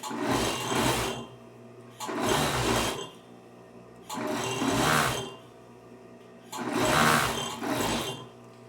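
Sewing machine stitching the front pocket flap pieces of a jacket in four loud, steady bursts of about a second each, separated by short quiet pauses.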